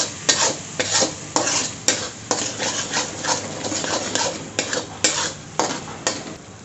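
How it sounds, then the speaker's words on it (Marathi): Dhaba-style green pea gravy sizzles in oil in a pan while being stirred, a steady loud frying hiss broken by regular scraping strokes of a spoon, close and without speech. "ग्रेव्हीला चांगलं तेल सुटेपर्यंत आपण छान परतून घेऊयात।"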